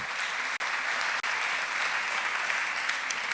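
An audience at a memorial lecture applauds a singer, a steady wash of clapping that carries on through the whole stretch, broken twice by brief dropouts.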